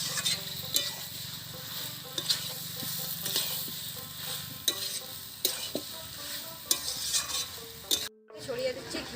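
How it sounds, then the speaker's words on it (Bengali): Fried jackfruit and potato are sautéed in a pan with a soft sizzle while a spoon repeatedly scrapes and knocks against the metal, the clicks irregular and close. "এবার ভেজে রাখা এঁচোড় আর আলুটা দিয়ে দিচ্ছি। এবার এটাকে ভালো করে কষিয়ে নেবো।"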